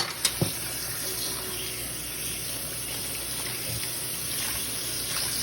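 Running tap water splashing steadily while dishes are washed by hand at a sink, a continuous close rush with a couple of brief knocks near the start.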